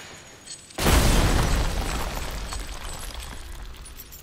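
A pipe bomb in Resident Evil Village goes off with one sudden loud blast, followed by a long rumbling, crackling decay with debris scattering as it fades.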